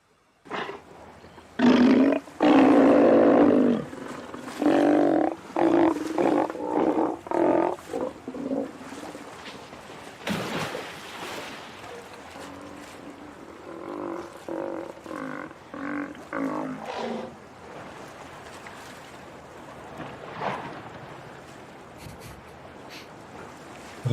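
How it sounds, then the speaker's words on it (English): Walruses on a shore in Kamchatka bellow and roar, loud, rough and repeated, with several deep calls overlapping up close before they thin out into quieter, scattered grunts. "Are these sea lions or seals? Walruses, something. Walruses, sorry."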